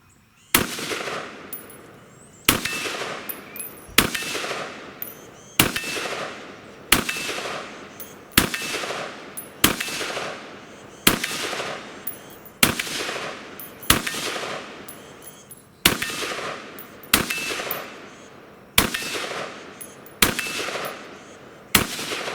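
A Sig Sauer 556 rifle fires deliberate single shots, about a dozen loud sharp cracks spaced roughly one to two seconds apart, each followed by a short ringing decay outdoors.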